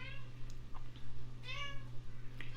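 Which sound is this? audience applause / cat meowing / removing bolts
cat meowing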